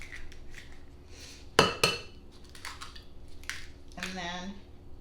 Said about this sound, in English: So you want to crack 3 eggs in a separate